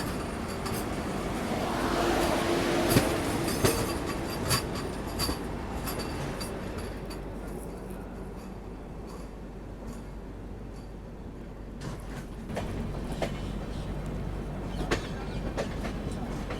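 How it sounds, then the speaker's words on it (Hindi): Varanasi–New Delhi Vande Bharat Express departing a station, a moderate rumble of rolling carriages with occasional wheel clicks and squeals, steady throughout at a middle distance, no voices. "वाराणसी नई दिल्ली वंदे भारत निकली"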